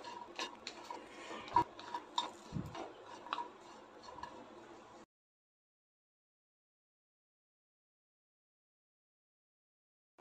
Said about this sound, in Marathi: त्यानंतर खजूर थोडंसं परतून घेऊया.